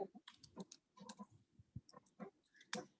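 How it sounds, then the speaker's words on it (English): Quiet typing on a computer keyboard, a run of irregular close clicks and key taps with brief pauses between bursts, heard alone. "I'm just gonna type it."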